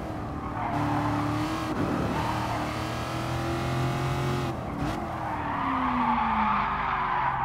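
A race car in Gran Turismo Sport brakes hard, with long tyre squeals over the engine drone and revs rising and falling across several seconds, no talk.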